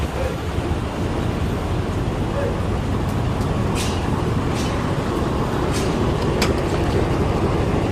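Steady interior rumble of a Mercedes-Benz OHL 1634 V8 coach run by Kurnia Jetliner while riding, a broad continuous drone with faint ticks and rattles on top, constant and fairly loud throughout.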